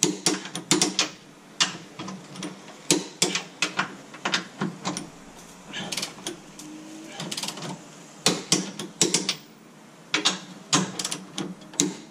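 Torque wrench clicking and ratcheting on transmission mount bolts of a Mazda 5, sharp close-up bursts of rapid ticks with short pauses between bolts, and no speech.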